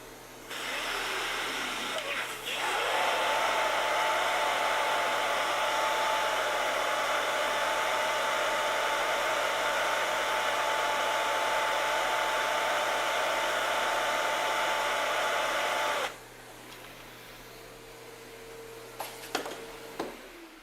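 A vacuum cleaner draws suction through a 20-foot hose, its steady loud whine and rushing air running for about fourteen seconds before cutting off, with faint handling sounds afterward.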